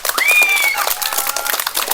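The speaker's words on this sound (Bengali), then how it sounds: "হাততালি যাক তাদের জন্য।" Spectators at a village women's balloon-popping game break into a burst of clapping, dense and steady across the moment, with a voice rising faintly over it.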